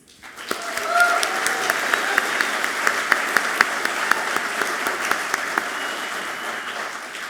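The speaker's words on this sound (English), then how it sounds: "how about a warm round of applause for our newest life member" A room of alumni award guests applauds a new life member, warm sustained clapping with sharp individual claps standing out, building quickly and holding steady.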